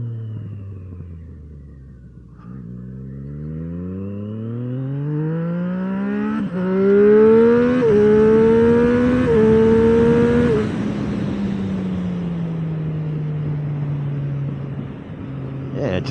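Triumph Street Triple three-cylinder motorcycle engine accelerating hard through the gears, with rising whining tones that climb, shift and settle into a steady cruising drone, loud and close, with wind rumble around it.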